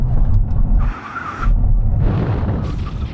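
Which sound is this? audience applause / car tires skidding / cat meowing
car tires skidding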